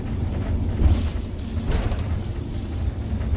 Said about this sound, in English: Oh yeah, there it goes. I'm on exhaust brake now.